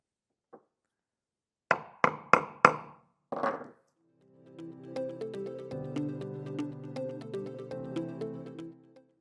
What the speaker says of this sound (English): lightly tap it, and screw it down